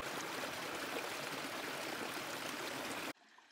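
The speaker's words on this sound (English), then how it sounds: "That's the sound of a warm water spring flowing" A warm water spring flows through a rocky ledge in Death Valley with a soft, steady outdoor rush and trickle that runs alone and then cuts off abruptly near the end.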